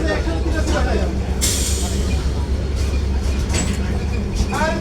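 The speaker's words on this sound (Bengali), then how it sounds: "ট্রেন আমাদের চলা শুরু হয়ে গেছে।" A Bangladeshi passenger train pulls out with its AC coach heading toward Dhaka: a steady low rumble and rolling noise fill the coach, with brief hissing bursts over the top.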